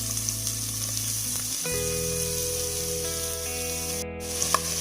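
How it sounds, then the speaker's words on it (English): Chopped onions with a cinnamon stick, red and green chillies and cumin seeds fry on a medium flame for pork vindaloo, giving a steady close sizzle with a brief stir partway through. "I'm then going to fry this for about 4 minutes on medium flame until the onions become nice and soft."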